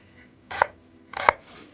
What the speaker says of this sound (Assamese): এইফালে প্ৰথমতে কাটি আছে পিঁয়াজ